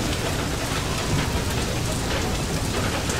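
Steady, dense hail and rain pelting down in a stormy wasteland in the video game FAR: Lone Sails, a loud, even wash of pattering noise that holds throughout without pause and with no talk.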